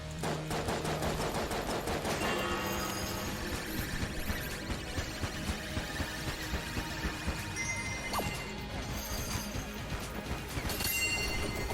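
The Shella gun fires in the video game Enter the Gungeon, a rapid, steady stream of shots rattling over continuous game music and effects.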